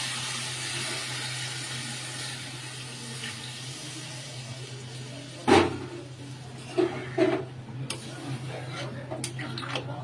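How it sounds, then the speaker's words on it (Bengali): Tap water is poured into a cooking pot on the stove, a faint steady trickle under kitchen background noise, with a few sharp clinks and knocks of utensils near the end. "তাহলে এবার জল দিয়ে দিই।"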